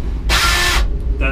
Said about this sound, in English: I'm just drilling crooked on purpose.